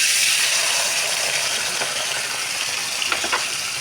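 Soft, steady sizzle and bubbling as turmeric, poppy seed paste, mustard, green chilli paste and salt go into a hot pan for a pabda fish curry, with a few faint stirring clicks near the end and no talk.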